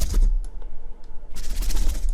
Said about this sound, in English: It already sounds kind of like really lame lightning or electricity